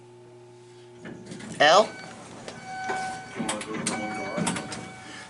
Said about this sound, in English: So this is the freight elevator.